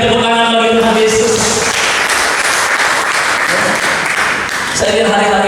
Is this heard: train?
no